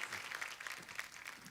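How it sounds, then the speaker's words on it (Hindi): Studio audience applauding the cast of a Hindi TV comedy show, a steady wash of clapping at moderate, somewhat distant level throughout. "एक बार गैस्टिंग लंदन की पूरी कास्ट के लिए जोरदार तालियां।"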